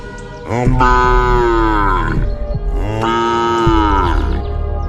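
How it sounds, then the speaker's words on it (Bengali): A cow bellows loudly twice in a row, each moo long and strained with a brief gap between, close and dominant with no talk. "গরুটা জোরে জোরে ডাকছে।"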